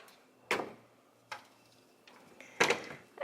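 A storage drawer in a fabric and craft organizer is pulled open, giving a few sharp, close knocks and a brief sliding scrape spaced apart in a quiet room.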